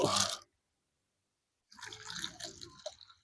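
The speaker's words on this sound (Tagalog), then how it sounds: "Lagyan natin ng konting tubig" Water pours and splashes into a container holding 125 grams of molasses for substrate composting, in a short burst after a brief silence, with a quick gush at the start.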